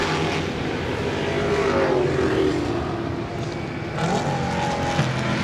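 Historic race cars, including a Mustang, racing at the Goodwood Revival circuit event, with a continuous loud engine roar and pitch sweeping up and down as cars pass, a fresh rising wave near the end.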